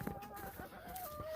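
Chickens cluck softly inside a small heated coop during a snowstorm, a few quiet, close clucks and short calls in quick succession.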